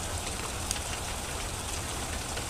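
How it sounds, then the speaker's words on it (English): Hail falls steadily in April in Fargo, North Dakota, a dense continuous patter of pellets hitting surfaces, even and moderately loud throughout with no talk. "It's hailing out in April."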